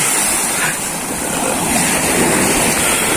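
Ocean waves washing in at low tide at Desert Point, a loud continuous roar of surf with wind noise, close and without talk.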